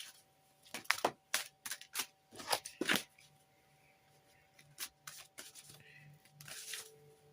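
Oracle cards are shuffled by hand in a series of quiet, close riffling bursts with soft taps and pauses between them, heard alone.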